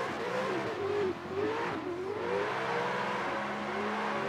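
Toyota GT86 cars drifting in a street-spec competition at a stadium, engines revving high and wailing through rising and falling pitch sweeps, loud and continuous with tire noise underneath.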